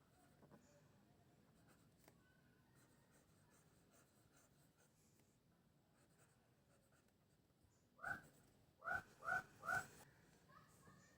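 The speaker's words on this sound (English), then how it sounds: "Now, I am writing with medium nib." A TWSBI Precision fountain pen with a medium nib scratching faintly across paper in a quiet room, with a few soft strokes followed by several louder, distinct scratchy squeaks near the end.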